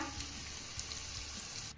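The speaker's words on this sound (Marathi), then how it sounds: "आता ही कडकडीत फोडणी आपल्याला भेंडीवर घालायची आहे" Mustard seeds, crushed garlic and a pinch of asafoetida sizzle and crackle in hot oil for a tempering poured over okra, a steady close frying hiss with small pops throughout, no talking.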